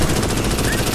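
Automatic gunfire rattles in rapid, evenly spaced bursts during a video game firefight, a loud, dense stream of shots lasting about a second.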